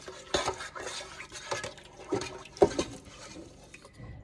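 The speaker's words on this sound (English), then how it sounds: "stir that around a little bit." Metal utensil scraping and clinking against a bowl as pasta salad with brisket is stirred, a few short scrapes in uneven rhythm, close and moderately loud, no talking.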